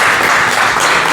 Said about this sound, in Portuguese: Aplauda a Trindade aqui, por favor.